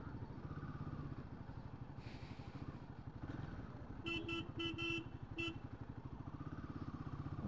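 Heavy road traffic on the Mumbai–Goa highway entering Chiplun, with a steady close engine rumble and a burst of several quick, loud horn toots near the middle.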